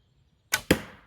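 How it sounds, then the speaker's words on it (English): Release of a 340-grain hazel arrow from a cheap bow: two sharp, close cracks in quick succession, the second louder with a short fading tail, and no voices. "Let's shoot one of my 340 grain hazel arrows."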